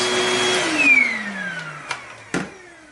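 A Kenmore 81214 200 Series bagged canister vacuum cleaner motor whirs steadily, its pitch sliding downward as it winds down, with a couple of soft knocks near the end.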